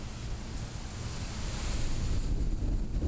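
Strong gusting wind roars steadily across an open outdoor disc golf course during a tournament round, a loud broadband rush that swells slightly louder toward the end, with no talking.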